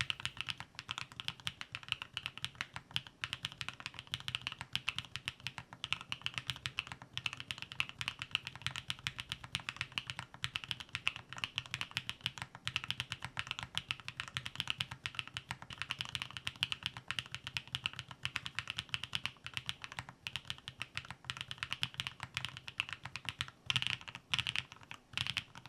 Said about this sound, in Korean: 이제 이 조그만 미니 키보드 타이핑 테스트를 진행해 보도록 하겠습니다